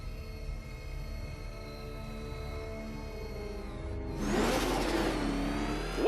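A car engine in the Batman Arkham Knight video game hums steadily on a racetrack, then surges into a loud, rising rev with a rushing whoosh near the end.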